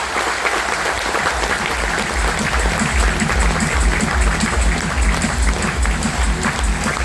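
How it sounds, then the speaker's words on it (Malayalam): Steady, dense applause from a large audience at a stage event, loud and continuous throughout with no break or speech over it. "ഒരിക്കൽ കൂടി കൈയടിക്കാൻ നിങ്ങൾ ചാൻസ് എടുക്കുക"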